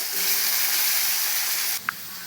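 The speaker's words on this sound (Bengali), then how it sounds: "ওই মাছ ভাজার তেলে কয়েক টুকরো আমি আলু ভেজে নেব" Potato pieces deep frying in used fish-frying oil give a loud, steady broadband sizzle that cuts off abruptly near the end, followed by a brief clink.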